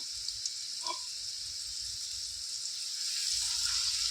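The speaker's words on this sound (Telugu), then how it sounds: "ఇందులో ఒక పది లవంగాలు కూడా ఫ్రై వేసుకుందాం" Ten cloves dropped into hot oil with garlic paste for a mutton pickle, giving a steady, soft sizzle and crackle that swells slightly near the end, with no talking over it.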